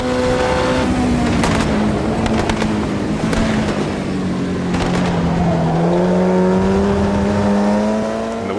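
A race car in the Automobilista 2 sim racing game drives at speed, its engine holding a steady high drone with shifts in pitch as it accelerates, plus brief rattling thumps from curbs, loud and continuous with no talk.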